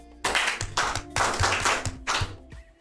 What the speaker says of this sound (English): But where is our SIYB clapping?